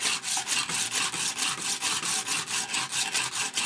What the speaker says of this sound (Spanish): Lija esmeril, una tabla cualunque, clavito acá, clavito allá y le voy dando ahí.